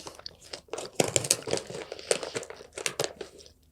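Crunchy gourmet popcorn is chewed close to the microphone, with a quick irregular run of sharp crunches and crinkles and no talking.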